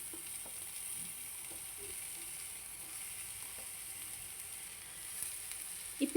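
Brinjal and onion pieces fry in a pan, giving a quiet, steady sizzle with a few soft clinks and stirring taps, then a small clatter at the very end.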